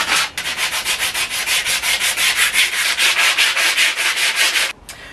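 Wood is sanded by hand with sandpaper for a workshop stool: a quick, even run of about twenty loud back-and-forth rasping strokes, close by, stopping just before the end with no talking.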